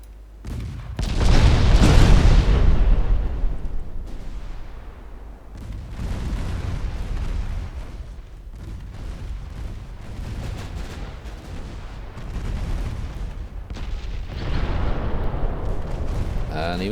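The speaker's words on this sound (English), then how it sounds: "Secondary guns really putting in the work." Warship secondary guns firing in Ultimate Admiral Dreadnoughts naval battle, repeated deep booms and rumbling blasts, one strong early burst then steadier distant firing, with a voice talking over it at times.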